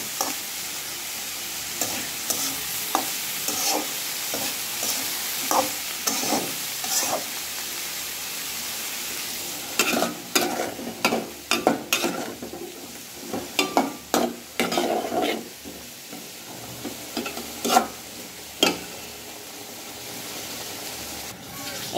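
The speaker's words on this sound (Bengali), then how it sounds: "এই যে মাছ তরকারি রান্না করতেছে" Fish curry cooks in a pan with a soft steady sizzle, then bursts of scraping and clattering stirring mid-way, with a few sharp clinks, close by.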